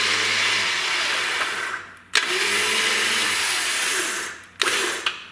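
A Warn VR EVO 10-S winch on a 2022 Jeep Rubicon, worked by wireless remote, drones in a loud, steady motor whine, halts with a sharp clunk, runs again, then stops with another clunk.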